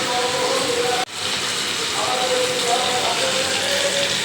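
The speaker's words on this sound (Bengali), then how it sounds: "আর এই যে আলু কষা হচ্ছে" Potatoes sauté in a hot pan, a constant crackling hiss near the microphone broken by one sharp knock, while a voice talks quietly over the cooking.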